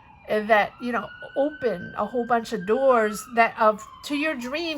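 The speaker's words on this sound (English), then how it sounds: "Apologies for the sirens." A siren wails steadily in the distance underneath a person talking close up, its tone sliding slowly.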